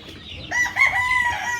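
A flock of 121 free-range chickens in a farm pen calls out with tonal clucks and crow-like cries that rise after a quiet start and continue at close range over a low, busy background.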